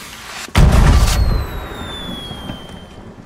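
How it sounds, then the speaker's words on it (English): A firework launches in the Sea of Thieves pirate game at night: one loud, sharp boom, then a crackling roar that fades over a couple of seconds as a thin whistle trails off into the distance. "I'm gonna shoot off a firework because it's nighttime."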